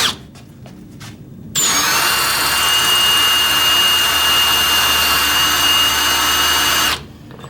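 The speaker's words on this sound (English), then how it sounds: "I'm actually going to try to drill in the exact same hole" A power drill bores into heat-treated steel, whining loud and steady for about five seconds after a few faint clicks, then stopping abruptly.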